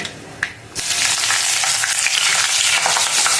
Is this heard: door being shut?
no